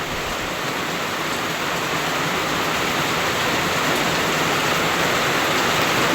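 Heavy rain pours steadily and loudly on a rural clearing, a dense continuous hiss of water with no breaks and no voices.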